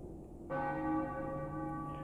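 A single bell strike in the Final Fantasy 9 video game rings out with a clear metallic tone that sustains and slowly fades, with no voices.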